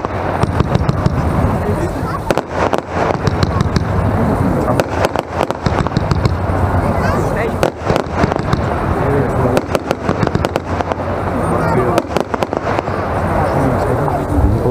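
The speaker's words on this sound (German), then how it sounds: "eine 30-Schuss-Batterie, rote und silberne Blinkerbouquets" A White Red Rebel 30-shot firework battery from Vuurwerktotaal fires red and silver strobing bouquets in a loud, rapid stream of bangs and crackles that runs almost continuously for about fifteen seconds.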